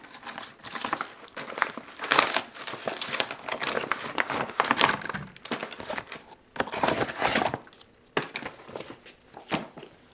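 Plastic MRE packets from a 1984 ham slices ration are pulled out and handled, making close, loud crinkling and rustling in irregular bursts with brief pauses between them.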